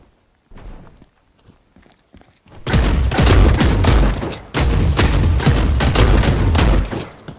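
Gunfire in The Cycle Frontier, a first-person shooter, starting with a few scattered shots, then breaking into dense rapid bursts of automatic fire, loud and close, with a short pause mid-way.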